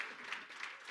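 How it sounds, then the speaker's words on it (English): Applause from an audience at an appreciation day event, a faint, steady wash of clapping heard from a distance and continuing throughout. "give him a round of applause tonight"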